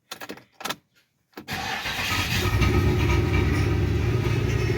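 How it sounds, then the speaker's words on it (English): Chevrolet Impala with a camshaft sensor fault starting up: brief cranking bursts and a pause, then the engine catches and runs with a loud, rough, uneven rumble close by. "Now that I got the engine running, we saw it act up, and it's actually kind of running like crap right now."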